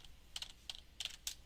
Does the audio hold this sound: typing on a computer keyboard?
yes